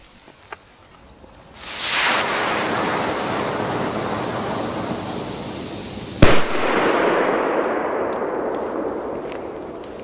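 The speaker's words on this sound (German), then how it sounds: "Und einen letzten Lupo, damit wir Gewissheit haben. Selbe Entfernung, super." A Pyrounion Lupo P1 firecracker goes off outdoors: one sharp, loud bang cracks out over a steady, rushing broadband roar that starts a few seconds earlier and runs on to the end.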